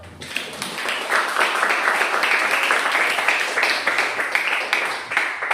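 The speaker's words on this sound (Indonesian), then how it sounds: "Oke, tepuk tangan untuk kelompok satu." Classroom applause for a student group after their presentation, steady dense clapping from many hands sustained for several seconds, fairly close and loud with no talking.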